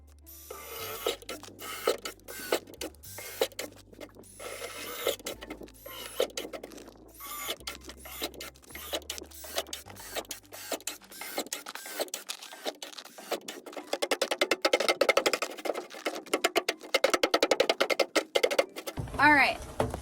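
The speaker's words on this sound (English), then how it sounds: "I'm gonna flip this guy over and put some drainage holes on the bottom." A power drill bores drainage holes through the bottom of an upturned plastic barrel being made into a hay feeder, in repeated rough grinding bursts that grow louder and denser toward the end, with someone talking between them.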